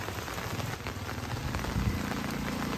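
Steady rain patters on surfaces at a wet market in La Paz, Leyte, making a dense, even hiss with scattered drips close by, with no voices.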